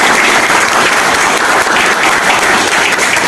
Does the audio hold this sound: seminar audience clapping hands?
yes